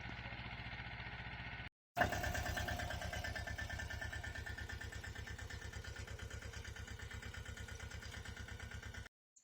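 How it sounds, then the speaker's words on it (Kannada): A Trakstar 525 25 HP tractor pulling a 3-foot, 20-blade rotavator runs with a steady rhythmic diesel thump. A brief gap is followed by the engine picking up again, and the chugging continues unbroken until it cuts off near the end. "ನಮ್ಮ ಟ್ರಕ್ ಸ್ಟಾರ್ 25 HP ಗಾಡಿ ವಿತ್ 3 ಫೀಟ್ ರೋಟಾವೇಟರ್ 20 ಹಲ್ಲಿಂದ ಬರ್ತೈತ್ರಿ"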